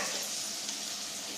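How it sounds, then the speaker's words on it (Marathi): Red chili powder sizzling and roasting in a pan for a Malvani dish, a steady close hiss of frying with no pauses and no talk. "आता मी लाल तिखट अर्धी पळी लाल तिखट टाकून घेतली आणि पटकन टाक भाजायला."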